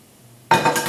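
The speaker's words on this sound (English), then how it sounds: "So add the various ingredients to the pan." Potatoes, carrots, sausages, onion and garlic tumble into a pan with a sudden loud clatter and rustle after near silence, followed by a few clinks and scrapes.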